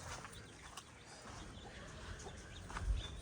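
A hen clucks faintly in a farmyard, her soft calls sitting low in a noisy outdoor background with no talking.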